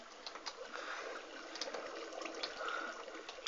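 Water flows in the video game Minecraft as a faint, continuous hiss with small splashy flickers throughout.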